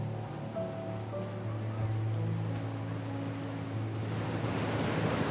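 Water gently lapping against a harbour pier at Durrës, Albania, a steady soft wash with wind noise and a low engine-like hum underneath, no talking.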